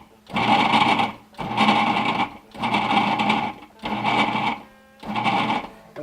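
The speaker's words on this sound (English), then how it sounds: "Pulse it a few times till it gets the consistency of coarse sand" A food processor pulses butter and flour in five even bursts of motor whir, each about a second long and separated by short pauses, loud and close.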